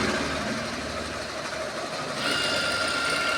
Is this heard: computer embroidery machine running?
yes